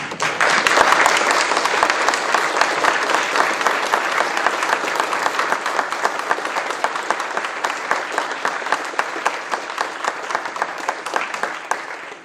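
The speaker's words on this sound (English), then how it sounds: "I think we owe you a big round of applause" Sustained audience applause honoring military veterans at a speech, dense and even clapping from a large crowd filling the room for about twelve seconds, fading slightly toward the end.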